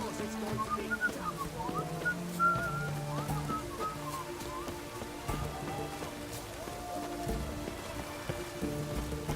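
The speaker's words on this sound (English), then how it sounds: "It's raining, of course it's going to be done." Steady rain falls in The Witcher 3 and patters on surfaces, with faint in-game music or whistling tones over it, continuous and at moderate loudness.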